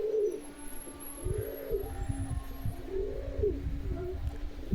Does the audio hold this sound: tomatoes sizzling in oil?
no